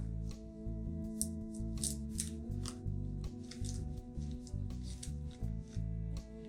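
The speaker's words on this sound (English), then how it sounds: "just peel this off." Protective film being peeled off a T500 Plus smartwatch during an unboxing, heard as irregular crinkly rustles and scratchy pulls close up over a steady low hum.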